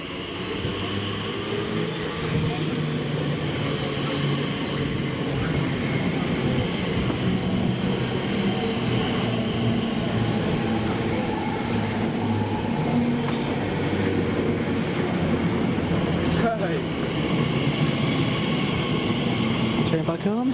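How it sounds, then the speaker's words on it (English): A London train to Abbey Wood via Canary Wharf rumbles steadily along the rails with a constant low drone and faint rhythmic clatter, heard from inside the carriage, with occasional background voices. "Train back home."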